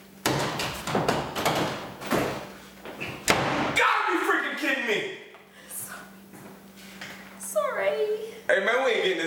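A stuck door is struggled with and banged, with several loud thumps and slams early on followed by rattling, all close, while someone talks and mutters throughout.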